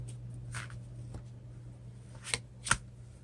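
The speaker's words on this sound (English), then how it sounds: "Card draw." Magic: The Gathering cards being drawn and handled, soft papery slides followed by two crisp snaps near the end, quiet and close with a faint steady hum underneath.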